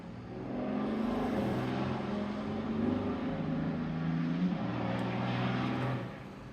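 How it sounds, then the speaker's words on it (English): A loud truck rumbles past nearby, a steady low engine drone swelling and holding for several seconds before fading, heard through an open window. "That was a loud truck."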